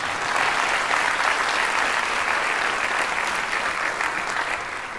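A conference crowd in Santo Domingo gives Leida Brea a full, sustained round of clapping, many hands at once, steady and loud, easing off slightly at the end.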